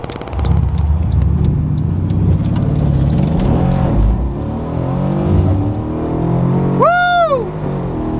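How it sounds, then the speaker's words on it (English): A Mercedes CLS 63, built for record quarter-mile runs, accelerates hard from a standstill with a loud, sustained engine roar and low rumble, capped near the end by a brief, sharp rising-and-falling squeal. "we're gonna do a quick demonstration of 0 to 60 start from a 0 to see how impressive this car is"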